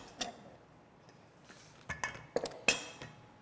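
A metal spoon scoops pumpkin ravioli filling from a bowl, giving a handful of quiet, scattered clinks and taps with short pauses between them.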